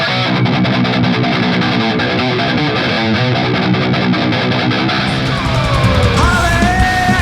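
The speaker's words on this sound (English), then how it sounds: "All of the guitar tones were recorded going from the guitar into my pedal board using various drive pedals to achieve the tones" A Harley Benton Amarok BT baritone guitar played through drive pedals gives thick, heavily distorted riffs and chords, loud and continuous, with a sliding high squeal near the end.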